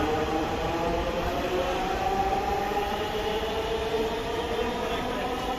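A Dhaka Metro Rail train departs in the evening from an elevated station, producing a continuous loud rumbling roar with a steady whine, close by and unbroken for several seconds.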